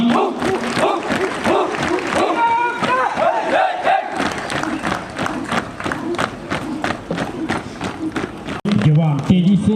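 Crowd at a military passing out parade of new recruits claps and shouts in unison, with loud rhythmic bursts over a continuous roar of voices and a sharp thump near the end.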